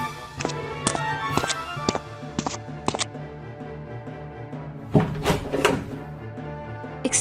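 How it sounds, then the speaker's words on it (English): Several heavy knocks pound on a door in uneven bursts, first a run of separate thumps, then a quicker cluster of harder bangs, fairly loud and close. "Now who pounding on my door like that?"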